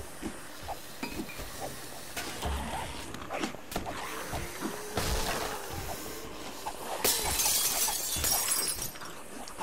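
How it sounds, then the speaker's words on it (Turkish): Glass window shattering in the 7 Days to Die video game, a bright crash of breaking glass near the end with scattered clinks and hiss over a busy game background. "Camı kırdım."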